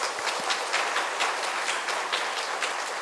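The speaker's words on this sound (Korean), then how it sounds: "우리 박수로 축복하겠습니다" Church congregation clapping together in blessing, a steady, even roar of many hands throughout, moderately loud with slight pulsing.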